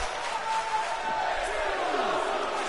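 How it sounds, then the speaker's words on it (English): Wrestling crowd at a Stardom show in Japan chanting in unison, a broad roar of many voices with a steady rhythmic rise and fall, heard from within the arena. "Crowd in Japan chanting, "This is awesome" in English."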